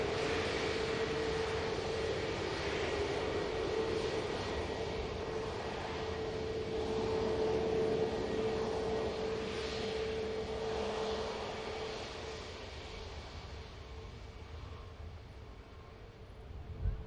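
Jet aircraft engines roar steadily at Manchester Airport around the biggest passenger airliner in the world during a turnaround, a continuous broad loud drone with a steady tone, swelling slightly midway and fading a little toward the end.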